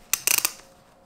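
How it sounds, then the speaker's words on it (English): A Comfort Click ratchet belt buckle clicking as the strap is pulled tighter: a single click followed by a quick burst of three or four close, crisp ratchet clicks, near and fairly quiet, with no talk. "if you want to tighten it, you can just pull on it and it ratchets tighter"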